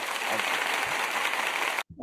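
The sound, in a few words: applause sound effect played from a soundboard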